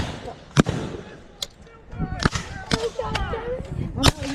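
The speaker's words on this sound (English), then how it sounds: "Commence firing from the right! Fire at will!" Scattered gunshots from a Civil War train raid reenactment in Walkersville, Maryland: several sharp, loud blank-fire cracks at irregular intervals, some close and some farther off, with people shouting over the commotion.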